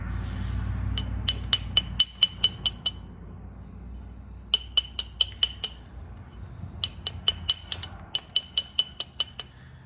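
Flint knapping on a stone point, bevelling its edge: bursts of sharp, bright clicks and taps, struck in quick runs of five to eight with short pauses between, close and crisp over a low rumble.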